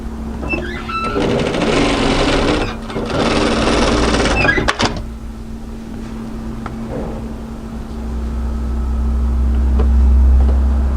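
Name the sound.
sewing machine sewing collar onto jacket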